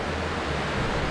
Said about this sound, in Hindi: और आप लोगों को सुनाई दे रहा होगा राइट, पानी की आवाज़.